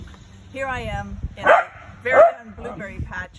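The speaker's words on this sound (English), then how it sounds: "in advance, sorry about the barking dog." A dog barks repeatedly beside a blueberry patch while a person keeps talking. The barks are sharp, close and fairly loud, coming in a few separated bursts under and between the speech.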